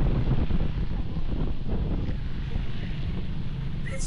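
Strong wind roars steadily across the microphone while riding a Suzuki Burgman Street 125 scooter, a loud continuous buffeting rush with no break.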